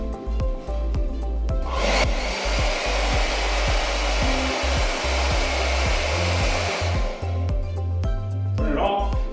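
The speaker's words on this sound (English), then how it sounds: "Now I'm gonna get ready to turn my hair dryer on." A handheld hair dryer blows steadily and loudly for most of the stretch, switched on and running before cutting off near the end, with a few clattering knocks around it.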